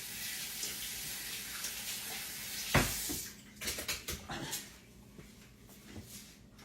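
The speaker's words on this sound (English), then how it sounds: "Let me rinse my hands off." Tap water runs steadily while hands are rinsed over a kitchen sink after mixing salmon croquettes by hand, followed by a sharp knock and a few soft clatters as the flow eases.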